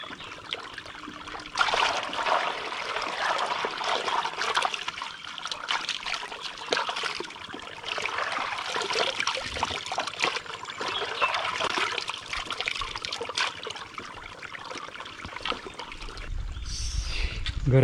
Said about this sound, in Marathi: आधी हात बीत धुऊया जरा मस्तपैकी.